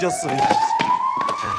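A voice imitates a police siren with a rising wail over shouting and scuffling, loud and close, with another person speaking briefly.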